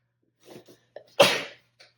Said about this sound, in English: I feel a sneeze. It might be coming soon.